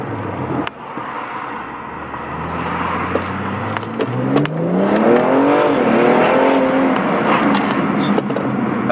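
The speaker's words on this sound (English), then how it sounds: "the turbo noise that we're getting, the whistle" A turbocharged BMW M235i with a performance intake accelerates hard, its engine note climbing through the revs with a rising turbo whistle over it, heard from inside the car.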